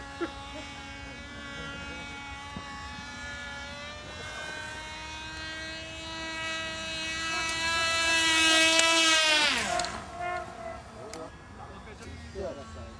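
A small propeller aircraft engine drones steadily, rising in pitch and loudness to a peak, then quickly dropping away.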